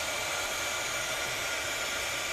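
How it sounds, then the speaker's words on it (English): A blow dryer runs steadily and close by during a crafting session, a continuous airy hiss and whir at moderate loudness with no voices. "I don't know if you guys can hear me with my blow dryer"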